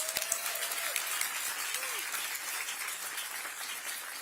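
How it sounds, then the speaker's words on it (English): Applause for former WNBA players at a groundbreaking ceremony for a new Portland Thorns and WNBA training facility, a steady crowd clapping wash at moderate distance throughout, with a few brief voices and whistles near the start. "I want to give them a round of applause"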